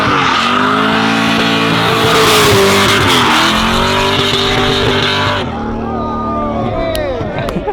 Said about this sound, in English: We're about to drift this entire on-ramp